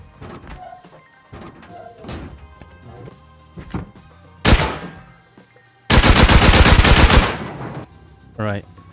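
Shotgun traps fire in the video game Rust, with loud blasts near 4.5 and 8.5 seconds and a sustained burst of heavy gunfire between 6 and 7.2 seconds, mixed among scattered game impact sounds.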